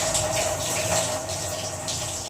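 Water pours continuously into a pressure cooker holding washed cowpeas, a close steady gushing fill that cuts off abruptly at the end, with no talk.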